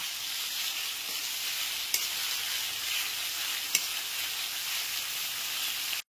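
Three large chopped onions frying in a pan over a medium gas flame, a steady close hiss of sizzling oil with two brief clinks of stirring.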